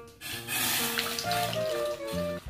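A tap runs steadily, filling a baby's bath with water, a continuous close splashing rush with a faint tonal hum underneath and no voices.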